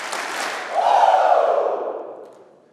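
A chapel audience at Wabash College lets out a loud, drawn-out collective "woo" shout in unison, rising after a brief opening and holding for about two seconds before fading with echo in the hall.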